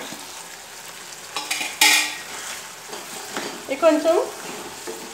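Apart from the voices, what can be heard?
drumsticks frying in a pan with turmeric and chili powder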